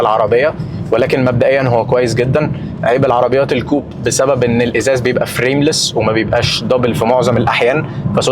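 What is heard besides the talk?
No everyday noise stands out behind the speech.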